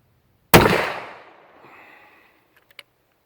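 A single loud, close gunshot from an old used Smith & Wesson Model 29 .44 Magnum revolver, a sharp blast with a long decaying echo, followed by a faint click.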